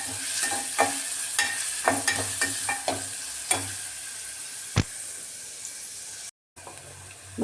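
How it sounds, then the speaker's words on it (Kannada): Onions frying in a pan with okra cooking nearby, a soft steady sizzle broken by repeated scraping stirs of a spoon against the pan, close and fairly quiet, with no talking. "ಇದು ಮಾತ್ರ ಕ್ಲೀನಾಗಿ ಫ್ರೈ ಮಾಡ್ಕೋಬೇಕಾಗತ್ತೆ ಈರುಳ್ಳಿ."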